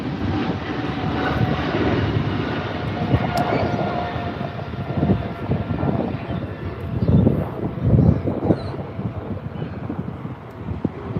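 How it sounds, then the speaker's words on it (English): China Airlines cargo airplane passing at LAX, a loud broad engine roar holding steady over several seconds with wind buffeting the microphone, no talking. "I think that's a China Airlines cargo."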